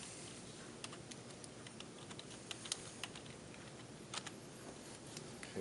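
Quiet, irregular clicking of keys being typed on a computer keyboard, with short bursts and pauses, fairly close and soft.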